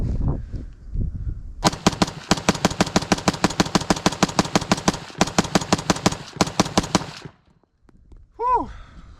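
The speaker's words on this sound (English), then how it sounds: "Should I do a mag dump?" A Czech AK rifle fires a mag dump of rapid, evenly spaced sharp cracks, loud and close, running several seconds with brief breaks before the magazine empties, followed by a short voice afterward.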